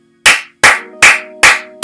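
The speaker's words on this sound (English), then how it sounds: "round of applause for GeminiJets." Five sharp, loud claps ring out one after another at an even pace, each with a short decay and a faint tonal hum between them, with no voices.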